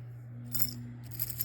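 Old metal keys from cars, houses and apartments clink lightly as they are handled, two brief bright jingles over a low steady hum.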